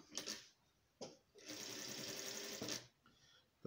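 Sewing machine stitching precut Oxford fabric strips for a patchwork rug, with a short burst, a brief start, then a sustained whirring run of about a second and a half, fairly quiet and close.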